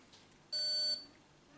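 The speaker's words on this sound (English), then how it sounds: "Made a beeping noise." A Square card reader gives a single clear electronic beep, steady and bright for about half a second, while a card payment is taken in a quiet room.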